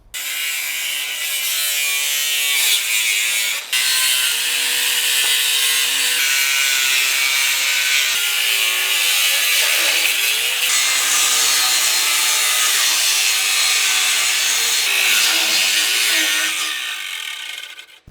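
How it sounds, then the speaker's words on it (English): Angle grinder fitted with abrasive cutoff wheels slicing through metal in a shop, a loud continuous high-pitched grinding whine with brief dips where the wheel is lifted and reset, sustained throughout with no talk. "we're going to put these on the grinders, we're going to start cutting"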